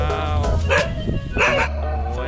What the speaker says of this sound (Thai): หมาเห่าใหญ่เลย